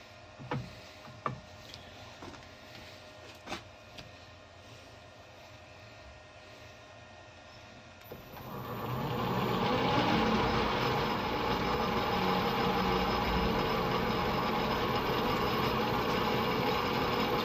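A lathe turns metal dry with an ISCAR carbide insert: a few faint clicks and taps, then a steady loud cutting roar rises and holds for the rest of the stretch.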